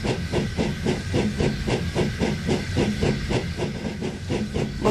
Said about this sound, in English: So the fireman lit the fire and made a nice lot of steam. Then the driver pulled the lever and Edward chuffed away.